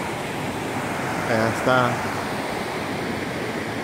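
Rushing rapids of the Cangrejal River near La Ceiba, a rafting spot, pour out a steady broadband roar that fills the whole clip, with someone briefly speaking over the water midway.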